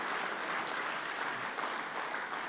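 Congregation applauding during a church service, a steady, dense wash of clapping that fills the whole moment without pause, with no voices standing out above it.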